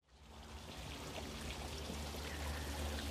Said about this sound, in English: You've got water cascading down from a cave-like structure